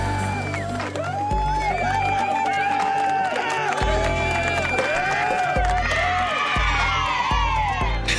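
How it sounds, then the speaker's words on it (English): A video game crowd in Star Citizen cheers, whoops and claps steadily at full volume, with a sustained wash of voices and shouting and no clear speech. "The clapping folks are back, everybody."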